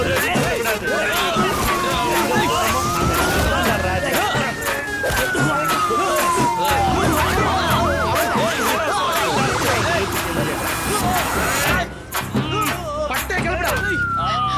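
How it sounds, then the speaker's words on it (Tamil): An ambulance siren wails in sweeping rising and falling tones through a busy street scene, sounding loud over a constant crowd babble and shouting voices. "நீங்க என்ன ஆம்புலன்ஸ் எடுத்து வரீங்க?"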